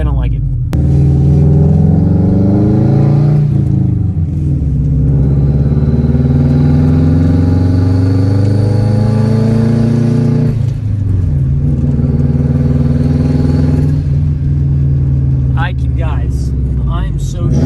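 Subaru WRX with a Tomei exhaust revving hard and loud, rising and falling in repeated sweeps, engine notes climbing then dropping back to a rumbling idle, with a voice briefly audible near the end.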